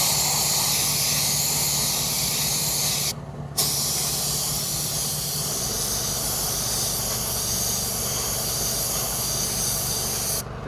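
Steady spray paint hisses onto a curb-rashed Audi A3 machined alloy wheel in a close, continuous stream, with a short break partway through before spraying resumes.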